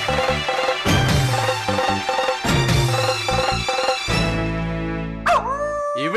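Dog barking in a comedy scene, a run of loud, close barks in quick bursts, then a trailing whimper and yip near the end, with no talking.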